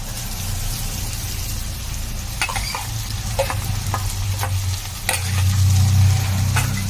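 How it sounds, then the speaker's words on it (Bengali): Capsicum, beans, carrot and soaked sago fry loudly in a pan, a close steady sizzle punctuated by sharp spatula clicks and scrapes, swelling louder toward the end. "এই আমার একটু ভাজা ভাজা হয়ে এসছে ক্যাপসিকাম, বিনস আর গাজর।"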